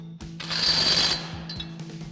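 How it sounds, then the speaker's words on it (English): Impact wrench fitted with an 18mm socket and swivel adapter tightening a nut on a Jeep Wrangler JK suspension lift install, one short loud burst of rattling hammering lasting under a second, with quieter mechanical sounds around it. "So now we'll grab our 18mm socket and swivel adapter on our impact"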